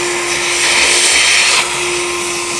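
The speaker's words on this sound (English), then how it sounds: "I'm gonna get a vacuum cleaner and we're gonna suck all this out" A vacuum cleaner roars close by with a steady whine, its hiss briefly rising as it draws debris out of a lowrider's engine, then settling back.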